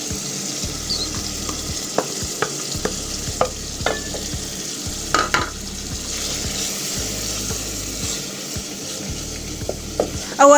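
Coriander stems and green pepper fry and sizzle steadily in tomato paste for spaghetti sauce, with a continuous hiss broken by sharp scraping stirs and clinks of a utensil against the pan, close by and with no talk.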